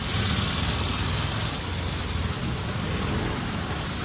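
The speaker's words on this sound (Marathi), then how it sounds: "पाऊस देख. आई शपथ आयले तो पण जोरात" Heavy rain at Dighi Koliwada pours down in a loud, unbroken roar, dense drops drumming on surfaces with no pauses.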